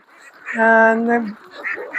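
A duck on a Bangladeshi duck farm lets out a loud, close, drawn-out nasal call lasting under a second, with softer farm noise and faint murmuring around it.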